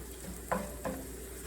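Spoon stirring seasoning into a pot while cooking crawfish stuffed baked potatoes, two short scraping strokes close by over a steady background hum.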